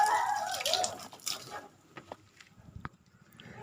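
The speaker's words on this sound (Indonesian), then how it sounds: "Nah, semua kita siram-siram ya." Water poured over newly planted santigi plants, with a splashing wash at first that thins into scattered drips and light patter, close by and fairly quiet.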